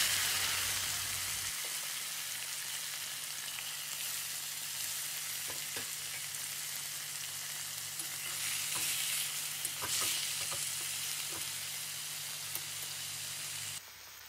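Taro greens frying in hot oil with black cumin, dried and green chillies and bay leaf, a continuous hissing sizzle with occasional soft stirring scrapes, close and steady throughout.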